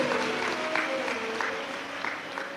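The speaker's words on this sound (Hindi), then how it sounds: "एक बार जोरदार ताली बजाकर उनका स्वागत करिए।" Audience clapping to welcome a guest at a Shiv Mahapuran religious discourse in Mumbai, a steady, moderately distant patter of applause throughout.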